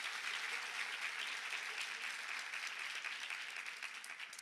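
A conference audience applauds after closing remarks, a sustained dense wash of many hands clapping, fairly distant and gradually thinning toward the end.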